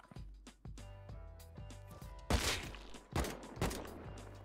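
Gunfire in the Rust video game: a string of sharp shots, sparse at first and then building into heavier, louder bursts of rapid fire in the second half.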